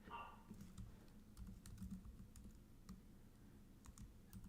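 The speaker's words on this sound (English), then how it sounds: "let me just type this out" Someone types on a computer keyboard, a quick irregular run of soft key clicks, close but faint, with no talking over it.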